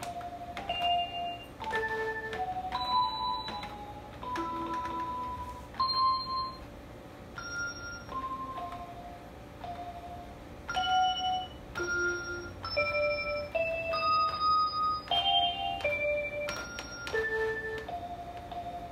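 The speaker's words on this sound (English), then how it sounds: "T6 is bells." Clear chiming bell-voice tones from a children's electronic toy keyboard ring out one after another in a slow demo melody, each note sustaining briefly over faint background hiss.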